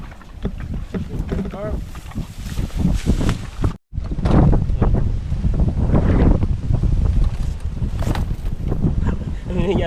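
Strong typhoon wind buffets the microphone in loud, gusty roars, with a brief drop-out midway and a voice faintly under the noise.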